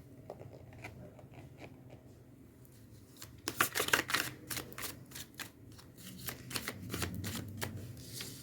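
A deck of tarot cards is shuffled close up, with faint scattered flicks at first, then bursts of rapid papery riffling, pauses and softer handling.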